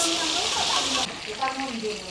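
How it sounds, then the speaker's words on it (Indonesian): Eggplant frying in a pan at home, a steady loud sizzle of oil that drops in level halfway through and continues more softly, with faint voices in the background. "terongnya digoreng teman-teman"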